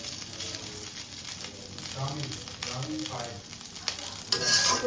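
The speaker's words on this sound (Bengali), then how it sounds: "হয়ে গেছে মাছ ভাজিটা" Fish fries in a pan with a loud, continuous sizzle and bubbling, stirred now and then, growing harsher toward the end; a faint voice sits briefly in the background.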